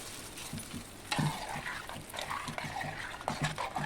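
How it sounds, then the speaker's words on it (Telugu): Hot tempering is tipped into sambar rice and stirred through, giving a close spoon-scraping stir with soft sizzling and uneven clanks that grow busier after the first second, with no voices. "తాలింపు అంతా వేసి మొత్తం కలుపుకొని"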